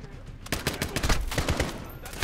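Rapid machine gun fire in Call of Duty: Modern Warfare (2019), a dense, loud stream of overlapping shots with no pauses.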